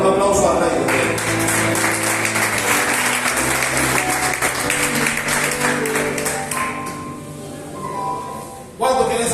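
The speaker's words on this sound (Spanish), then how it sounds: "Dale un aplauso al Rey de Dios." Church congregation applauding during a Spanish-language sermon, steady crowd clapping mixed with voices and music, sustained for most of the clip before fading near the end.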